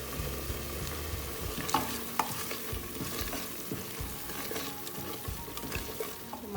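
Konkani masala bought from Maharashtra being stirred as it fries in oil for a spicy chicken curry, with a steady low sizzle and intermittent scraping strokes of the spoon, fairly close and alone.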